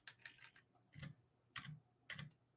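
Quiet typing on a computer keyboard, four clustered bursts of keystrokes spaced about half a second apart, close and fairly soft with no talking.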